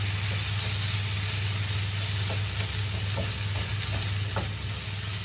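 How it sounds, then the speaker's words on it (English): Onions caramelizing in a pot give a dense, continuous sizzle with faint scattered pops and occasional soft stirring clicks. The sound is steady and close, with a low background hum and no voices. "The onions are cooking really good"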